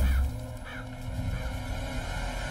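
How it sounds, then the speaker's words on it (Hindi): A crow caws in a scene from the 2016 Indian film Jakkanna, giving a few short, harsh calls over a low background rumble. "कौआ भी काँव काँव करके कुछ कहना चाह रहा है"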